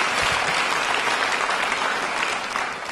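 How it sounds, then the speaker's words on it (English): Audience applause at an awards ceremony, a steady, dense roar of clapping that carries loudly and continuously throughout, with no voices rising above it. "Give a round of applause"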